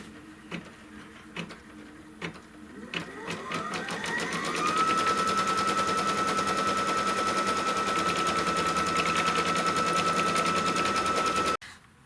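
Computerized embroidery machine stitching a tack-down line on fabric for a Kimberbell Pot O' Gold jar topper: a steady, rapid mechanical needle rattle that ramps up after a few scattered clicks and runs continuously up close before stopping abruptly.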